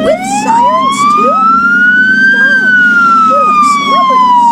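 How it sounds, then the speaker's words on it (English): A police van's siren wails loudly and close, a single long rising-and-falling tone sweeping slowly over a few seconds above a steady engine drone. "Got a police van with sirens too?"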